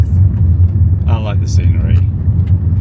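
A car drives along a Norwegian mountain road toward Turtagrø Hotel on the Tindevegen route, its steady low engine and road rumble continuous beneath people chatting inside the cabin.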